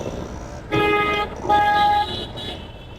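Car horns honk in long, overlapping blasts amid the low rumble of congested, diverted road traffic near Dagdusheth Ganpati temple during Angaraki Chaturthi.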